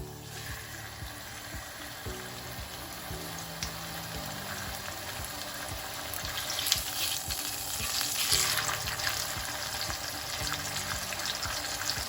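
A pork steak sizzles in hot olive oil in a cast iron pan, a steady hissing fry that swells a little louder midway, close and with no voices.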